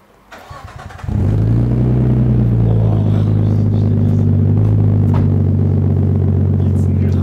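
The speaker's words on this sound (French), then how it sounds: "Vas-y, tu la démarres, tu es écouté derrière." A Nissan Skyline R34 GTT with its RB-series engine cranks and fires up, settling straight into a loud, deep, steady idle with a strong low rumble, recorded close to the car.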